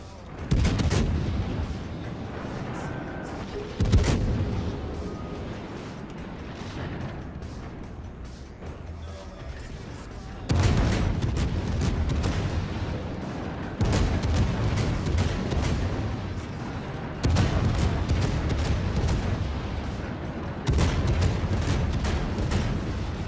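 Tank guns in a video game, played in a Minotaur tank, fire as loud, heavy booms, one near the start and then several more at irregular gaps over a steady rumbling engine background.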